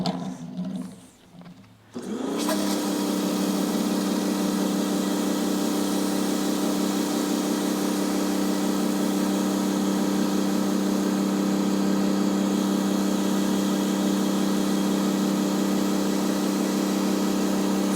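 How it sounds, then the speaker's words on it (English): A 2000 PSI electric pressure washer cleaning a dirty concrete sidewalk starts up after a brief quiet moment, then runs as a loud, steady, constant drone close by. "I use mine on just my little 2000 PSI electric pressure washer"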